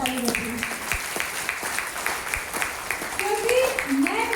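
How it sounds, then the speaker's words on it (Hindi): Moderate applause from the audience at a health awareness program, a fairly sparse run of clapping under ongoing talk and background voices. "जोरदार ताली बजाइए"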